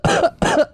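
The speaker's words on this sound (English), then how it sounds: "that was a pretty genuine cough" Two harsh coughs from one person, close and fairly loud, each a short rough burst separated by a brief gap, with a third just starting at the end.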